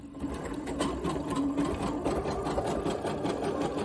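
A sewing machine stitches along a seam with a fast, steady mechanical chatter, running continuously at close range.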